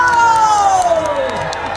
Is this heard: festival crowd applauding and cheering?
yes